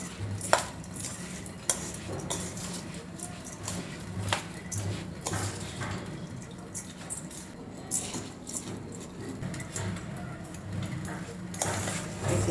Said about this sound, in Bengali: ভালো করে একটা চামচের সাহায্যে ম্যারিনেট করে নেব।